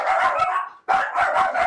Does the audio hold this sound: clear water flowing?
no